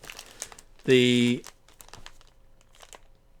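A mylar emergency space blanket crinkles sharply in one loud, close burst of about half a second, framed by quieter rustling and a brief spoken word.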